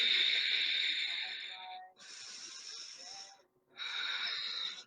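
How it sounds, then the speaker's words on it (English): Deep, loud breaths taken during a core exercise, airy hissing inhales and exhales in three long drawn-out cycles with short gaps between them, close to the mic. "Deep, deep breaths."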